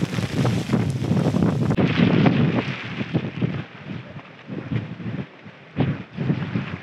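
Strong wind buffets the microphone at the base of Sarasgad fort in open hill country, a loud, continuous roar with gusty surges and rumbling low bursts throughout, no voices.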